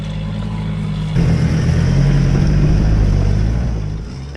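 A 4x4 Toyota, a Landcruiser or Hilux, grinds up a steep hill with its rear diff locker engaged. The engine drones steadily under load, then its low rumble swells and holds, with wind and scrabbling tyres mixed in.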